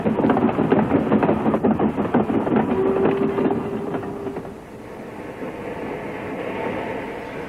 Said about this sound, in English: here comes the goods train, just about to cross the river